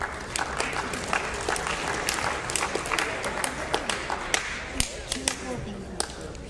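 An audience at a high school winter sports awards assembly applauds a group of honorees, a steady wash of many hands clapping with sharp individual claps standing out, and faint voices underneath.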